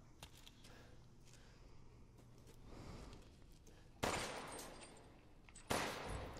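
Gunshots in the survival horror game Resident Evil Village: two sharp, loud blasts spaced apart with echoing decay, preceded by quieter ambient game sounds and a faint breath.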